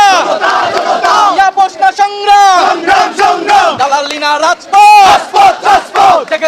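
Street protest rally crowd chanting slogans demanding a ban on the Awami League, many voices shouting in loud rhythmic call-and-response bursts, close and continuous with brief pauses between lines.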